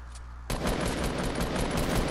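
In Fortnite, gunfire breaks out after a brief quiet moment, a rapid run of overlapping shots that stays fairly faint and keeps going to the end.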